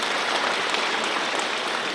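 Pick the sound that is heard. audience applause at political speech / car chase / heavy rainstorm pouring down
audience applause at political speech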